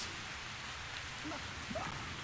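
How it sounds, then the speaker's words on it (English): In Metro Exodus a soft, steady patter of rain falls as constant hiss-like background noise, quiet and unbroken, with small scattered game sounds over it. "Why does it sound like it's raining? Oh, it is raining."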